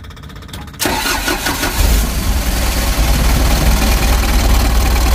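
Starter whirring on a Mitsubishi L300 diesel engine after reassembly, then the engine catches and settles into a loud, rough, steady diesel idle, heard close with no talk.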